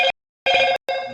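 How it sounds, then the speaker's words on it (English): A mobile phone ringtone goes off loudly and close by, three bursts of ringing separated by short silences, with no voices over it. "That was my phone."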